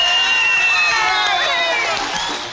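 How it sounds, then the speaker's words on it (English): A cartoon crowd cheers and whoops loudly in a continuous, dense wash of voices that holds steady and fades slightly at the end. "Can't you hear that applause?"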